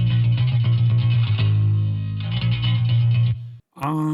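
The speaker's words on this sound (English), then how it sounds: "So the main tone on the bass is this chorus flange ambient bass." Bass guitar through an amp-sim preset with chorus, flange and ambient effects, sustained low notes swirling under a bright shimmer, ending in a brief silence and a final struck note.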